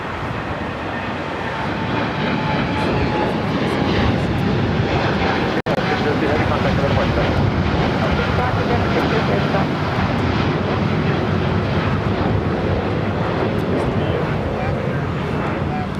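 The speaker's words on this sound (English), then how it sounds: "KLM Dreamliner to start rolling down 25 right" A KLM Boeing Dreamliner begins its takeoff roll on runway 25 right at LAX, with a loud, broad, continuous jet engine roar that holds steady throughout at close range.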